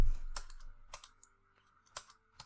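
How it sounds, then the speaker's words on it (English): Computer keyboard typing comes as a few sparse, crisp keystrokes close by in a quiet room, with short pauses between clicks. "if I type here again"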